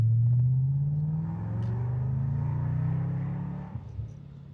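Black 2006 Audi S4 Avant's exhaust rumbling loud and deep under acceleration, recorded from inside with the windows down, a steady low growl rising in pitch across the pull.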